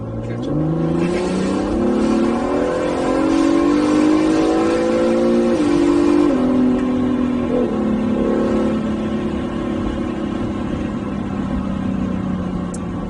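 A 2019 Acura NSX sports car's engine revs hard while driving, pitch climbing steadily through the gears with brief shift dips, loud and close with continuous road and wind roar beneath.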